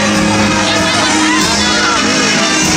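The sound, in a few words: applause for King Melchior at the Three Kings parade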